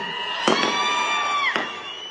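A large crowd at an outdoor political rally in Sangola cheers loudly, with whistles and shouts ringing over a dense roar. A couple of sharp claps or bangs cut through.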